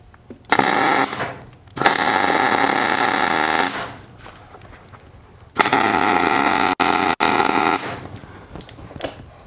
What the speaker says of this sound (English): let's weld this on there and see if that works